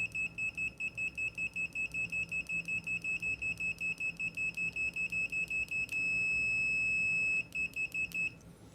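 A CADIK DM-21A digital multimeter's high continuity beep pulses rapidly and steadily, turns into one continuous tone for over a second, then resumes short pulses before stopping.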